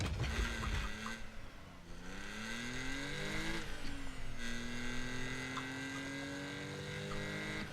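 A game car driven around in the battle-royale video game Notmycar, its engine revving up and down through shifting pitches with a brief tire squeal, steady and fairly loud with no talk.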